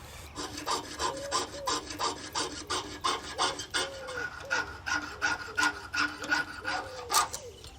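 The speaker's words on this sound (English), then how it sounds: "So I've got a piercing saw, which is a very fine saw." A fine piercing saw cuts through brass in steady, rhythmic back-and-forth strokes, each rasping pass close and evenly spaced over several seconds with no voices.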